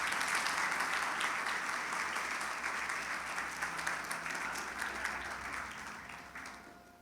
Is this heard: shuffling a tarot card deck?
no